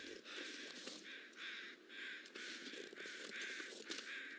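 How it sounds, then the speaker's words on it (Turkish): Crows cawing in the survival game The Long Dark: a steady run of harsh, rasping caws that rise and fall across a constant bed of wind-like ambience, moderately near and uninterrupted by any voice. "karga sesleri beni çok ürpertiyor ya"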